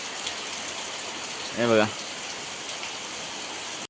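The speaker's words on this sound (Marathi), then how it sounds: "पाऊस पडतोय बाहेर" Steady rain pours outside in the Konkan countryside as a group prepares for a crab-catching outing; an even hiss runs throughout, with someone speaking briefly over it.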